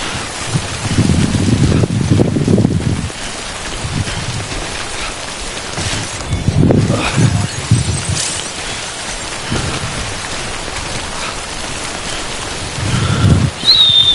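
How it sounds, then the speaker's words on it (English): Steady rain falling with low rumbles of thunder rolling in and out in the video game Death Stranding, a constant wash of noise with deep bursts now and then. "I don't like the rain."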